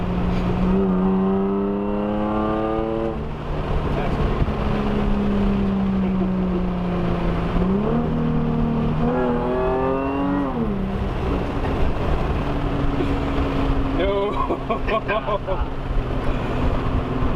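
Supercharged car engine revving near a Dodge Hellcat R/T, with repeated rising and falling whines and throttle blips, loud and close, with people talking over parts of it.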